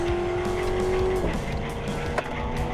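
A Ford Crown Victoria converted into a Spec Panther race car, driving on track and heard from inside the cabin, with a loud engine drone and a falling tone as the engine note shifts, then a brief bump.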